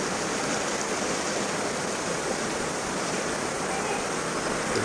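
Floodwater from an overflowing river rushes across a main road, a loud, steady broadband roar of flowing water that continues without break and fills the whole scene.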